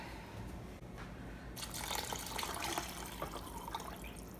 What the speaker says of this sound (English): And now we put in water.